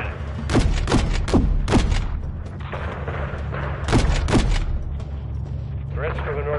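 Rapid bursts of automatic gunfire and heavy booming shots from a gunner laying down cover fire in Call of Duty Modern Warfare 3, loud and repeated in clusters over a constant rumbling engine drone, with radio chatter in the background.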